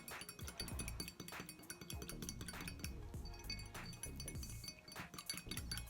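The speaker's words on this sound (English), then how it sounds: "And give it a stir." Homemade hand sanitizer made with styling gel and watermelon essential oil is stirred in a glass, giving faint, quick clinks and taps of the utensil against the glass in an irregular rhythm.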